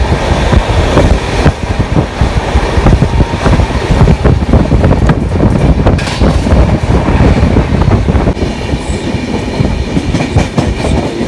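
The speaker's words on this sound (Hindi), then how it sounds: "और 2 मिनट के बाद ट्रेन भी चल पड़ी।" Poorva Express passenger train pulling away from a station, a loud continuous rumble with rattling carriages and clickety-clack, heard from on board with wind buffeting, no speech.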